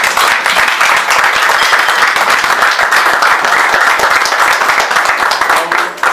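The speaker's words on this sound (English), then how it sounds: "Give these two men a rousing applause." An audience gives two men a rousing round of applause, dense continuous clapping close and loud for the full stretch, fading slightly at the very end.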